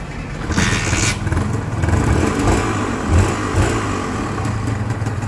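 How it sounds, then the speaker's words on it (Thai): A factory-original NSR motorcycle engine idles steadily with a low, even rumble, close by and fairly loud, with a few slight rises in revs. "เดี๋ยวผมให้ฟังเสียงเครื่องยนต์"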